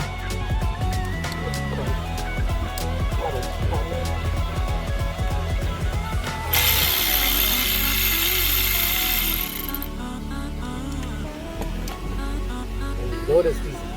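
A tool works the T-screws loose from a carbon fiber LED steering wheel with rattly mechanical clicks and a burst of harsher noise in the middle, while someone talks over it.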